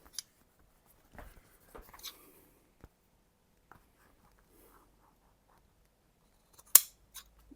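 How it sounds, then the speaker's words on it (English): Large upholstery scissors snip through leather in a few quiet, crisp cuts, followed by one sharp, loud snap near the end; the scene is otherwise quiet, with no talking. "Wow, snip straight through."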